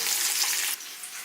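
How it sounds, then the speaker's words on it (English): Bacon frying in a pan to render out its fat, a steady bright sizzle that drops to a quieter crackle partway through. "We cook the bacon pretty well because we're really just making it to get the fat out of it."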